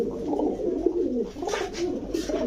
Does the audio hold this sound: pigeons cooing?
yes